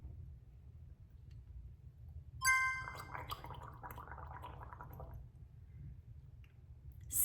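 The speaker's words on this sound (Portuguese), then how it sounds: "você vai gargarejar essa água, que além de aquecer levemente, vai formar uma turbulência que limpa a garganta" Gargling water at the back of the throat, a bubbling, churning burst of about three seconds that starts with a few clicks, sounds close and fairly quiet, then gives way to low room noise.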